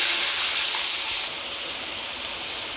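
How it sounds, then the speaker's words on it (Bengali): Pointed gourd (potol) sizzles in hot oil with turmeric, a steady, dense hiss that stays even and continuous close by. "তো চলো দেখি পটলটা ঝটপট করে তেলে ছেড়ে দিই।"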